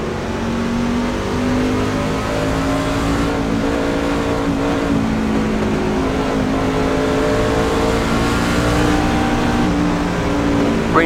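Race trucks at Talladega accelerate together at the green flag, a loud, continuous roar of engines whose pitch climbs and overlaps as the pack gathers speed.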